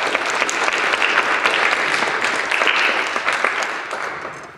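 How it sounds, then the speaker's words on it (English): Audience applause at a Sunday congregation gathering fills the room, dense steady clapping from many hands that tapers off slightly near the end. "it would be appropriate to applaud"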